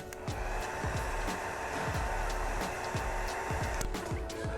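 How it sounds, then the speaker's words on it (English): A heat gun on its low setting blows steadily while warming tint film on a 2024-2026 Toyota Land Cruiser taillight, a constant airy whir with faint clicks and handling sounds in the background. "Just apply heat using the low setting."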